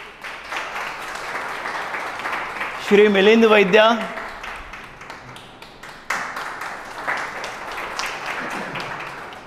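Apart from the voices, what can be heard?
audience applause welcoming guests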